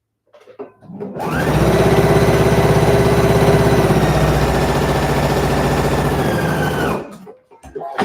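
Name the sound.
sewing machine sewing a seam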